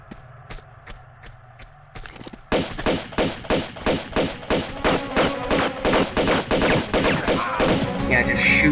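Gunfire in Tomb Raider II begins with a few isolated shots, then settles into a loud, steady, evenly spaced stream of repeated shots close up that continues to the end.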